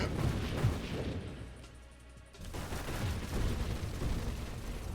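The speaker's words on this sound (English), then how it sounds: "Did you see the explosion and timing on that?" A muffled blast from the space shooter Nova Drift rolls out, followed by a brief quieter lull and then a swelling roar of rumbling, crackling explosions that continue steadily to the end.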